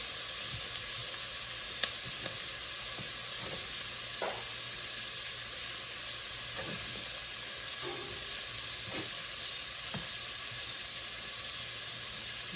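Mussels simmer in a pot on low heat for a mussel soup, a faint, even hiss and steam that runs throughout with occasional small ticks and pops, and no one talking.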